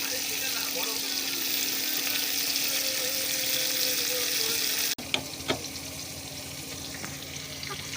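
Vegetables fry in hot oil until browned, some coated in gram flour, rice flour and spices, giving a dense, steady sizzle that cuts off partway through; quieter frying follows, with a few clinks.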